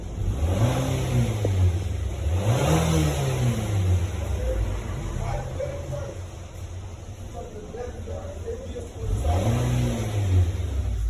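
A 2016 Nissan Altima 2.5 engine with an exhaust-side cam timing fault (code P0016) revs up in three loud surges, at the start, mid-clip and end, settling to a steady run in between, with voices faintly underneath.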